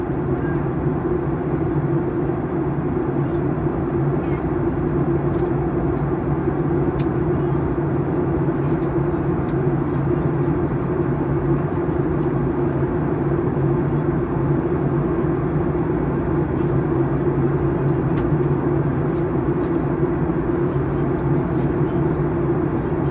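A steady, loud drone of engines and rushing air fills an airliner cabin as it makes its landing approach to Arlanda airport, unbroken for the whole stretch.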